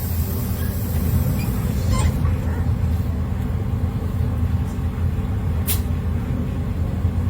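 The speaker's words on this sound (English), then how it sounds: "Once the air goes in, you hit the brake." A truck idles with a low rumbling engine during an air brake leak test, and a short sharp hiss of air from the brake is released near the end over the steady drone.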